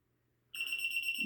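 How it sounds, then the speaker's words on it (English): A steady electronic beep starts abruptly after a half-second of near silence and holds clear and continuous to the end, alone with no voices. "you're probably going to be hearing that beeping noise a lot, which might annoy people"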